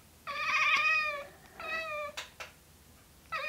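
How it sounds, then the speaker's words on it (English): A cat meows close by, two long drawn-out tonal meows followed by a shorter one, with brief quiet gaps and small clicks between them. "this sound is actually sampled from Pablo the cat."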